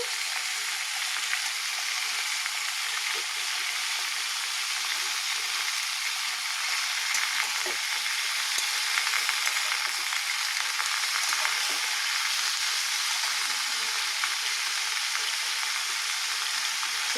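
Chicken pieces and boiled cauliflower stems frying together in a pan, a long unbroken sizzling hiss with faint scattered crackles, steady and close, no talking.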